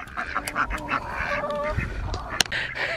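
Ducks quacking and honking close by on a small farm, several overlapping nasal calls in quick irregular bursts with brief louder squawks, alone without talk.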